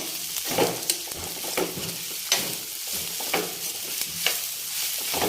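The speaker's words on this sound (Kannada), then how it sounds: "ತೊಂಡೆಕಾಯಿ ಹಾಕಿದ ನಂತರ ಎಲ್ಲ ಚೆನ್ನಾಗಿ ಮಿಕ್ಸ್ ಮಾಡಿಕೊಂಡು ಎಣ್ಣೆನಲ್ಲೇ ಉರಿಬೇಕು" Ivy gourd stirred and fried in oil in a pan, with a steady close sizzle broken by repeated scraping stirs of a spoon against the pan, alone without voices.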